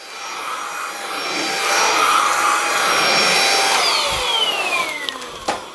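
A Xiaomi Handheld 1C cordless stick vacuum runs on carpet with a loud, steady motor whine and airy rush that rises and falls slightly as it moves, close up.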